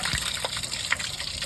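A steady, loud gush of water pours out of the fresh water drain under a travel trailer, a continuous splashing rush with a few brief spatters and no pauses.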